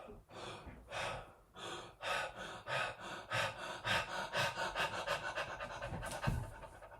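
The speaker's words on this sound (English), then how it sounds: "and you let it out, exhale" Breath of Fire breathing exercise: a rapid, even train of forceful nasal exhales, about two per second, close and loud with no talking.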